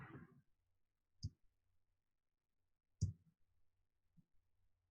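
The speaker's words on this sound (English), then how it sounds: "if we hit the backslash key on our keyboard" A single keyboard key, the backslash, is pressed twice in quick succession, giving sharp, close clicks with near silence around them and a faint bit of speech at the very start.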